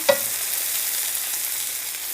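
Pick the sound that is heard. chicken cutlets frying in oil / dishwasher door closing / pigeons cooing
chicken cutlets frying in oil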